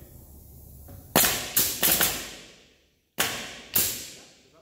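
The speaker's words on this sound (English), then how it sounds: "every time you hit the wood, it's going to shoot a nail" Bump-fire nail gun driving nails into wood: five sharp, loud bangs, three in quick succession, then a pause and two more, each ringing off briefly, with no talk.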